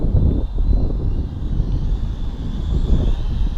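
SONGYANG SY-X33 folding drone in flight over a backyard, a steady high-pitched propeller whine over a broad, rushing hum, continuous and fairly close.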